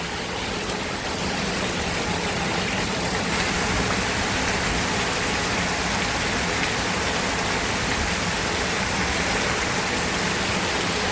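Dense, heavy monsoon rain pouring continuously in Banaskantha, a loud, even hiss of water that never lets up, with no voices.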